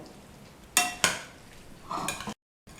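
A spoon stirs and scrapes through a macaroni sauce mixture in a pot, with two sharp clinks followed by a wetter stir nearby, then a sudden cut to silence.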